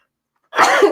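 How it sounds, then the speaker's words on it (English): A single sharp sneeze erupts after half a second of silence, loud and close, from a person in an indoor setting. "I think I'm going to sneeze."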